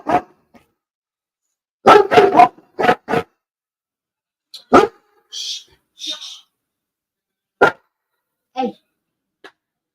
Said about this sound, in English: And so, of course, my dog's barking.